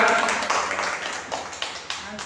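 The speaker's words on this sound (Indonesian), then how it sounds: "tepuk tangan atas teman kita" A youth church service audience applauds a participant, scattered clapping that thins out into a few separate claps while voices speak over it.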